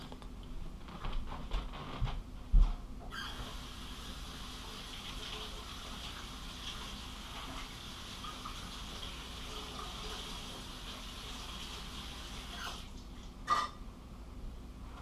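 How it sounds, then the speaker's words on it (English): Hot water runs from a tap over four freshly washed scales, a steady, fairly soft rush of flowing water with a couple of brief knocks. "I'm going to run them under some hot water here"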